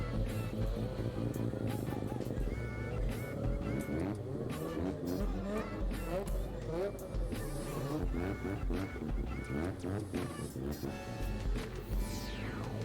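A Mazda RX-7 sports car engine revs hard and climbs through the gears, loud and close throughout, with a voice talking over the roar.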